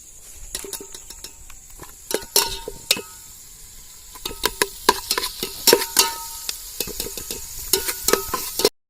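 Chopped tomatoes with onions and a little salt being stirred and fried in a pan, a steady close sizzle broken by repeated sharp clinks and scrapes of a spoon against the metal.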